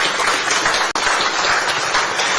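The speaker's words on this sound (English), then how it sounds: "with a resounding and a deafening round of applause," A large crowd at a joint presidential meeting in Accra, Ghana, bursts into loud, dense applause, a continuous roar of clapping with a momentary dropout partway through.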